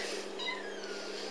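Kitten meowing in a home full of cats, a short high cry standing alone and fairly close.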